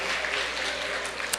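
Church congregation at a Sunday morning service applauding in a dense, even patter of many hands, close and fairly steady with one sharper clap near the end.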